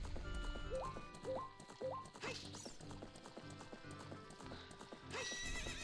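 A horse in The Legend of Zelda: Ocarina of Time, with rhythmic clip-clopping hooves throughout and two loud whinnies, one near the middle and one near the end, in a game soundtrack.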